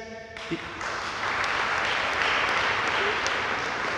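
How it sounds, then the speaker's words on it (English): Audience applause at a police junior graduation ceremony, a dense, steady wash of many hands clapping that rises after a brief lead-in of talk and holds loud and even to the end. "we'll give them an applause"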